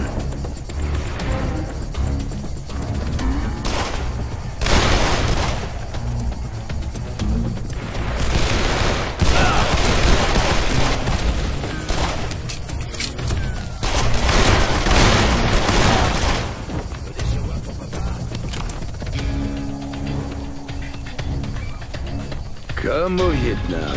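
Bursts of gunfire from the video game Call of Juarez: The Cartel come in several loud, sustained volleys with short pauses between them, while voices speak over the shooting.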